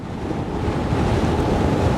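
Continuous gusty wind roaring across the microphone during an electric car range test drive, a dense low rumble that swells slightly, with no voices.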